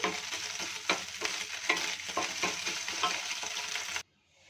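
Eggs stir-fried into a loose bhurji in an oiled pan, a steady close sizzle broken by regular scraping strokes of a spatula, cutting off abruptly near the end.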